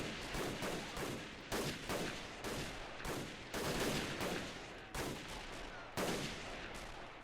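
Dense World War I battle gunfire in Men of War: Assault Squad 2, with rapid rifle and machine-gun bursts and sharp blasts crackling in irregular clusters, loud and continuous with no voices.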